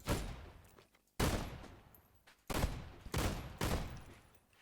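Gun firing in the Core game engine: four or five loud, isolated synthetic shots, each with a long decaying tail, spaced about a second apart.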